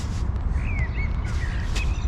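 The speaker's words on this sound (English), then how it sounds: "you hear only the birds" Birds chirp and call in a park beside a calisthenics area with a mountain view, thin whistled notes coming and going over low, steady outdoor rumble with no talking.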